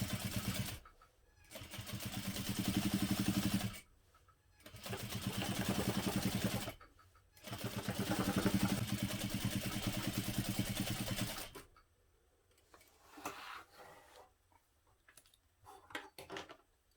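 A sewing machine topstitches a tote bag seam at a long stitch length, running in three bursts of rapid, steady stitching separated by short pauses, followed by quieter handling clicks.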